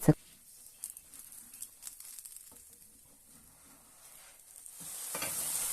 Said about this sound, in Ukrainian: З другої сторони він смажиться дуже швидко, буквально 15-20 секунд.